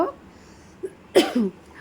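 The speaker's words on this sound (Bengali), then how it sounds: "কাশি হচ্ছে খুব গো" A person coughs twice, a short quiet cough followed by a louder, harsher one, close to the microphone in a quiet room.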